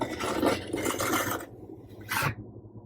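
A large 10-inch spatula scrapes joint compound across a crack in a wall, giving broad rasping strokes that stop, followed by one short final swipe.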